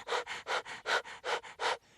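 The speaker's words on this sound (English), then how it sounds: "panting or hyperventilating" Rapid panting breath, nine quick rhythmic huffs in about two seconds, close and clear with no other sound around it.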